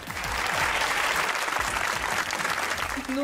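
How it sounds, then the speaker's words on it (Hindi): Enthusiastic applause from a comedy talk show studio audience, dense and sustained clapping with a voice faintly audible near the end. "तालियां बजाइए अपने लिए बेटा।"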